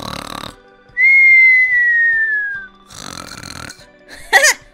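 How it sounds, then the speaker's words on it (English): A Roblox dad character snores in the game, one long sustained rasping tone with a slow downward whine lasting about two seconds, loud and alone between short bursts of game noise. "It sounds like a chainsaw. Then it must be Dad snoring."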